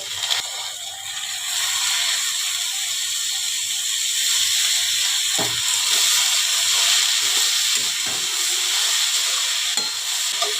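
Grated coconut fries lightly in a pan as boiled banana blossom goes in and is stirred, giving a steady close sizzle with scraping clicks of the spoon throughout, no voices.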